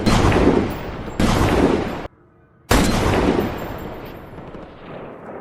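Sniper gunshots from a film scene ring out in loud, sharp bursts, with a brief near-silent gap before the firing resumes and trails off into echoing reverberation.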